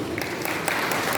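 Brief clapping from a congregation at a silver jubilee thanksgiving Mass for a priest, a steady patter of hands at middling loudness with a few sharper claps.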